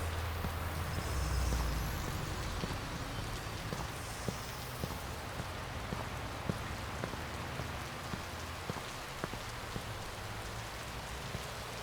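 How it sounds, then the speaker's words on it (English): Steady rain falls on a dark night in Chicago in Watch Dogs, with a dense patter of drops on surfaces and occasional sharper splashes, continuous and fairly quiet. "listening to the rain, dark night"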